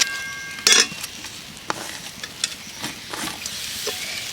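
A spatula stirs lote fish chop filling in a pan as the last moisture cooks off. Soft scraping and light sizzling are broken by one sharp metallic clink near the start and scattered small taps, with no talk.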